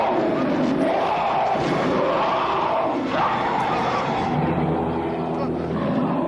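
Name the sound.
crowd shouting in a horror movie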